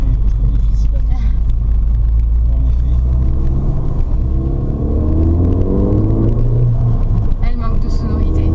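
A Ford Fiesta ST with a 182 hp engine is driven, heard from inside the car as a steady, loud, low rumble. An engine tone rises midway, mixed with road noise.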